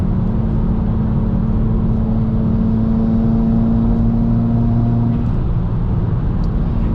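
A modified Subaru WRX on a pro tune accelerates from inside the cabin, its engine a loud, continuous drone with a rising tone that climbs steadily, then drops off after about five seconds.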